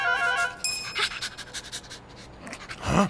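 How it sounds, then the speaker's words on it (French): A dog pants in quick, breathy bursts in a cartoon scene, close and fairly loud, with a brief whimpering rise near the end. "Yumi, qu'est-ce que c'est que ce chien?"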